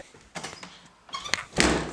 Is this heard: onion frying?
no